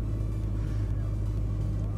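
A parked car idles with the air conditioning running, producing a steady, close low engine rumble and a faint blower hiss that hold constant with no voices.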